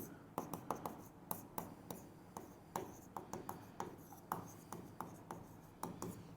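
A pen writing by hand on paper while working a company accounts problem on share issue, a quiet, close series of short scratchy strokes and taps in an irregular rhythm, with no talk over it.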